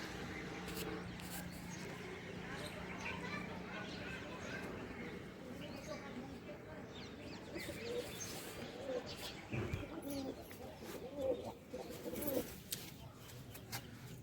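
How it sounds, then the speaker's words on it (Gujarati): Pigeons coo softly and repeatedly outdoors while birds chirp here and there, with a person speaking over the steady, low background. "અત્યારે આપણા આકાશમાં કબૂતરા ઉડે છે"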